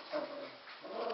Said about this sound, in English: It's like a little puppy scrum down there.